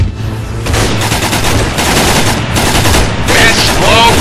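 A squad of players fires together in Arma 3, loud close bursts of rifle and machine-gun fire overlapping in a dense, continuous volley that swells in waves throughout.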